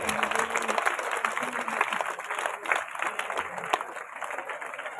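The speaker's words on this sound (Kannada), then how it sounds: "ತಮ್ಮೆಲ್ಲರ ಜೋರಾದ ಚಪ್ಪಾಳೆ." Audience members applaud during a yoga demonstration, a moderate, dense patter of clapping that continues for several seconds at a fair distance, with faint talk beneath.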